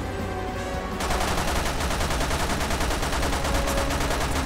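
Rapid automatic gunfire with infinite ammo in Resident Evil 6 starts abruptly after a short pause and runs as a dense, continuous rattle of shots, loud and up close.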